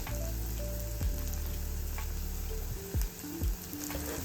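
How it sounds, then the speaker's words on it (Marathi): Masala and spices for paneer ghotala sautéing in a pan, a steady close sizzle broken by a few sharp spoon scrapes and stirring knocks near the end. "आता आपण हे छान परतून घेऊया"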